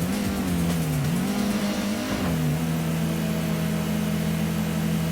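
Race cars in the PlayStation game Gran Turismo drone steadily at high revs, the engine note dipping and climbing through gear changes in a continuous, fairly loud stream with no talk.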